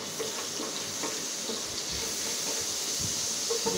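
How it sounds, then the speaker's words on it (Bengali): Shrimp coated in turmeric and salt fry in hot oil, making a steady, close, even sizzle and hiss that runs the whole time with only slight crackling variations. "মাখিয়ে নিয়ে এবার চিংড়ি মাছটা ভাজি করতেছি"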